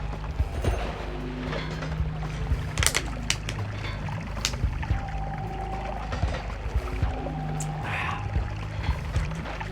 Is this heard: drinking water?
yes